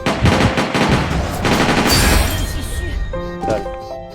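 Gunfire in the shooter game CrossFire, a dense run of shots and impacts throughout, loud and busy, ending with sharper in-game effect tones near the close.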